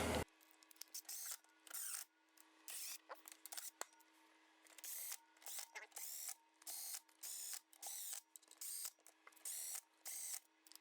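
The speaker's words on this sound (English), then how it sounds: "go ahead and run all these down real quick with the impact" An impact wrench runs down bolts on a 1974 Honda CB350F engine being assembled, in a rapid string of short, loud, rattling bursts separated by brief pauses.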